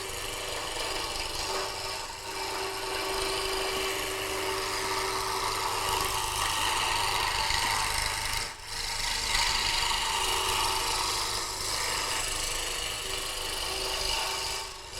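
A wood lathe spins a wooden spindle while a cutting tool is drawn steadily along the tool rest, producing a continuous close scraping, rasping hiss over a low motor hum, steady for the whole stretch with a brief dip partway through.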